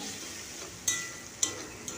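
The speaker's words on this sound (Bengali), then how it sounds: "মশলাটাকে খুব ভালো করে একটু ভেজে নিচ্ছি।" Spice paste with a splash of water and chilli powder frying in a pan for a spicy dry long-bean and potato curry, a steady hiss with a few sharp scrapes of stirring, close and alone.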